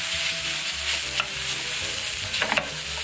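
Minced garlic and pork belly are stir-fried in rendered fat, giving a continuous close sizzle. A spatula scrapes and taps against the pan a couple of times, and no one speaks.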